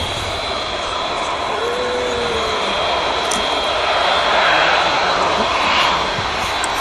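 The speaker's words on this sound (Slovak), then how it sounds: "a je tu prvé lietadlo." A jet airplane roars down the runway at an air show, a loud sustained engine rush that swells slightly as it takes off, with a faint whistling tone above the noise.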